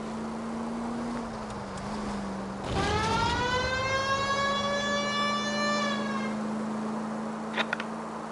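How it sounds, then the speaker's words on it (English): Police car siren from the video game L.A. Noire wailing loudly for several seconds, its rising and falling tone layered over a steady engine drone, then cutting off near the end. "Why don't you use the siren?"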